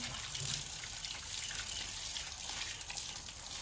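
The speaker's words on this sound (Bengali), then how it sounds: "এবার কলের জলে ভালোভাবে ধুয়ে নিচ্ছি।" Tap water runs steadily over taro roots as they are rinsed, a continuous close splashing wash with no talk.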